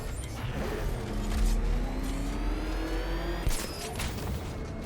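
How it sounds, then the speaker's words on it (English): The Batmobile in Batman: Arkham Knight revs, its engine rising in pitch with a rumbling low roar, accompanied by mechanical whirs and a sharp thud near the end, no talking. "Get the Batmobile back over here."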